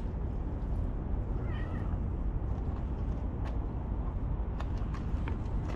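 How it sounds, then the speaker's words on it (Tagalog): A blue-eyed cat gives a short, faint meow over a steady background hum, with a few light clicks and no talk. "Cute ng pusa, oh."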